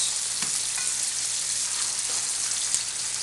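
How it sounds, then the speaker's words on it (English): Vegetables fry and crackle steadily in a hot pan for zigeunerschnitzel, with light stirring scrapes over a continuous sizzle. "Just remember to keep stirring your vegetables."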